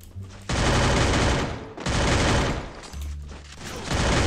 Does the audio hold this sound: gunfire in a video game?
yes